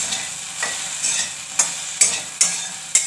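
Okra and spices sautéed in oil, a hissing sizzle broken by six regular scraping stirs of a spatula in the pan, close and with no voices.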